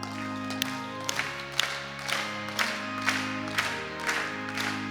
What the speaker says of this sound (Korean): 힘차게 박수 치면서 우리 323장 찬양하고